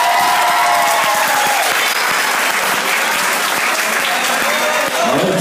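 An audience at a televised gala applauds continuously, a loud, dense wash of clapping with a faint voice underneath.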